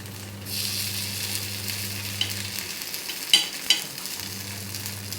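Paniyaram batter cooking in a nonstick pan gives a steady, soft frying sizzle with low hum underneath, broken by a couple of light clicks partway through; no one speaks.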